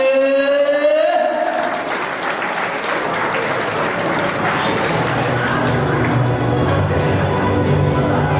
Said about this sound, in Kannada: ನಮ್ಮ ಕೀರ್ತನಾ ಅವ್ರಿಗೆ ಜೋರಾದ ಚಪ್ಪಾಳೆ